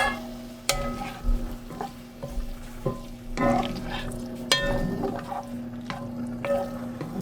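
Macaroni is stirred in a pan with butter as it lightly fries, with scraping strokes of a utensil, clinks against the metal and a soft sizzle underneath, in irregular bursts close by.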